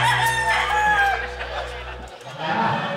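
A fighting rooster crows loudly and close by, with harsh sustained tones over a steady low background hum, followed by rustling activity.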